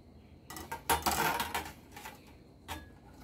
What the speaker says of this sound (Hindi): ये मैं अदरक ली हूँ। अब इसे मैं कद्दूकस करूँगी।